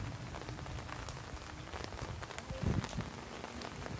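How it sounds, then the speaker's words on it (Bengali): Rain falls steadily on a lotus pond with large leaves and water lilies, a dense, even patter throughout with a brief thicker burst of drops midway. "এই এই বৃষ্টি"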